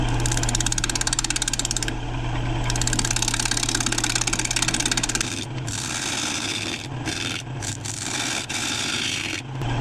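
A wood lathe spins at 800 RPM while a tool works the curve of a turned bowl, giving a steady motor drone with a pulsing, rasping scrape for about five seconds, then a rougher, uneven cutting hiss.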